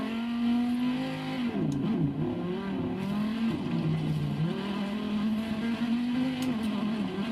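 Race cars in the Forza Horizon 3 video game drone steadily through a street race, the engine pitch rising and falling with gear shifts and revs, loud and continuous with no talking.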